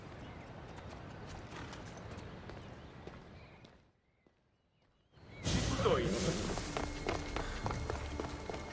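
Horse hooves clip-clop at a steady pace in Assassin's Creed Odyssey, fading briefly to near silence before returning louder with a whoosh and background noise and tones.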